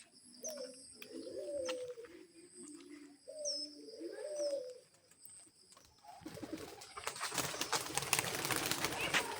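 Pigeons cooing nearby, a few soft repeated coos in short rhythmic phrases over faint chirps, followed by a rush of louder noise that may be wings or movement.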